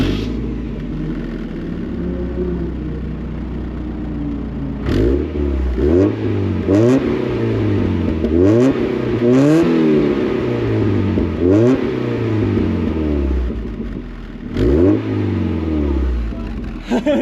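A 1997 Mazda Miata engine revs repeatedly, rising and falling in quick sweeps after an idle, moderately loud and close, with a rhythmic series of throttle blips.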